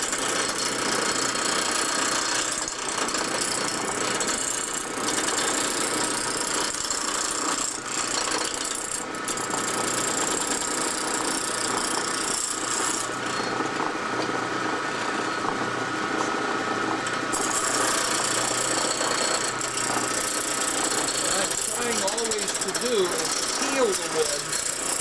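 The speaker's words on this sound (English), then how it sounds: "Peel the wood rather than scrape it. You get a better peeling by riding the bevel just to the right angle." A wood lathe spins a rough blank while a gouge rides the bevel and peels shavings, giving a continuous rumbling, rattling drone with scraping texture throughout. A voice is faintly present at moments.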